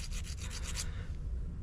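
A honing stone rubs over an Oster bolt threading die for an Oster 792ALX threading machine in rapid, close, gritty back-and-forth strokes that then settle into a quieter steady scraping, with no talking.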